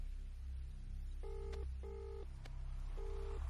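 A telephone keypad is dialed in a film scene, three or four distinct electronic tones beeping in sequence with brief gaps, fairly clear over a low background hum, with no talk.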